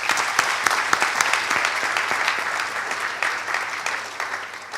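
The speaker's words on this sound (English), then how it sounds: "Give yourselves a round of applause for that." A conference audience of medical students applauds, a continuous dense patter of many hands clapping at an even level for several seconds with no speech over it.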